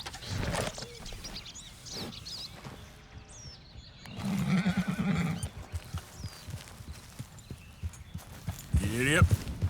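A horse in Red Dead Redemption 2 gives a loud, close whinny near the end, after a stretch of muffled hoofbeats, rustling and game ambience, with a voice briefly audible.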